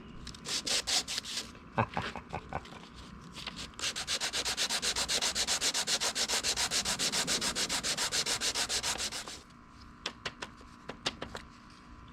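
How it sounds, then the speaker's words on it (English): Wood sanded by hand to collect sawdust makes close, scratchy strokes, first in irregular bursts and then in a steady fast back-and-forth rhythm before a few last scrapes; no talking. "I'm going to collect some sawdust to do that."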